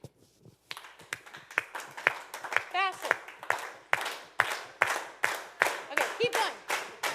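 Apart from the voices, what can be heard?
youth group clapping together on the same beat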